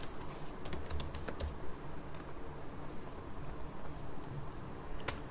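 Typing on a computer keyboard while entering data into a hotel management system: quiet, irregular key clicks, busiest at the start, over a soft steady background hum.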